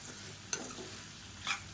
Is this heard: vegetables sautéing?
yes